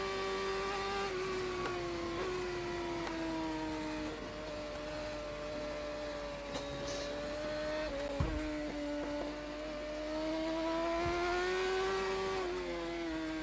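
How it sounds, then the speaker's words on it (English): A BMW HP4 superbike on an onboard lap of the Isle of Man TT road course holds a steady high-revving engine whine, the pitch dipping and climbing with gear changes and throttle, continuous and close throughout. "The bike sound is truly beautiful."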